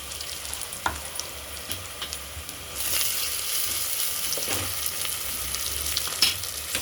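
Ginger-garlic paste and mint leaves fry in a pan for mutton curry, a close steady sizzle that grows louder partway through, with occasional spoon taps and scrapes, no voices.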